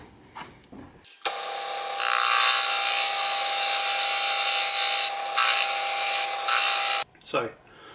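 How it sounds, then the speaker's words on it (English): A metal lathe machines an oil drain fitting for a Holset HX40 turbo, a loud, steady whining cut lasting about six seconds, with brief voices just before and after. "throw this on the lathe and get going"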